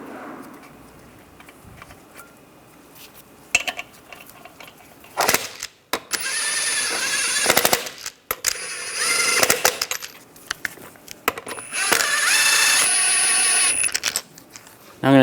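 Lug nuts go back onto a 2015-2020 Cadillac Escalade wheel during a tie rod replacement, with bursts of loud power-tool whirring between quieter clicks and metallic handling sounds, under occasional speech.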